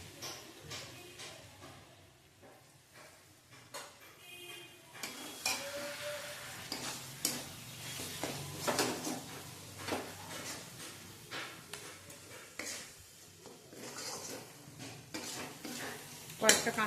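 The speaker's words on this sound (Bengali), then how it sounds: "অল্প অল্প একটু জল দিয়ে কষিয়ে নেব।" Bombay duck (loitta) fish sautés in a pan with a little water, giving a quiet sizzle with frequent spatula scrapes and pan clinks throughout.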